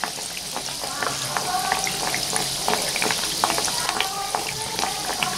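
Banana malpua batter frying in hot oil in a small kadhai, a steady close bubbling sizzle with crackles throughout, no talk.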